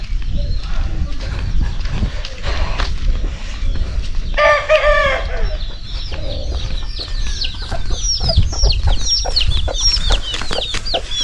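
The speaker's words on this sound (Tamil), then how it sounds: "எல்லா கோழியும் மிரண்டுக்குது, கறக்கறான்னு கத்துது" Chickens squawk and cackle in agitation, with a rooster crowing partway through, over a busy, noisy farmyard background.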